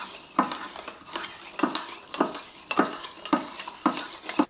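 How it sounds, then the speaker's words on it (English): A bar spoon stirs a pineapple cocktail packed with crushed ice in a cup, giving about eight evenly spaced scraping, clattering strokes close up with no talking. "get the spoon in there and give this a real good mix"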